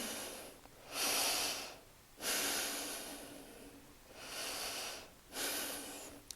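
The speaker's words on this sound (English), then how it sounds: "from here, you're going to do your diaphragmatic breathing" Slow diaphragmatic breaths during a tripod crawling exercise, four long airy inhales and exhales with pauses between, close and quiet.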